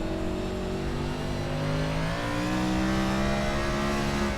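A race car engine held in fifth gear on the Bristol dirt track in iRacing, a steady, loud, high-revving drone with its pitch climbing gradually, heard close and continuous with no speech.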